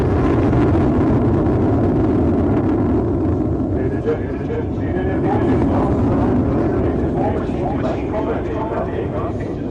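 Indian Air Force aircraft sweep past in an aerial salute at a frontline fighter air display, a loud sustained jet roar filling the whole stretch with a commentator talking over it.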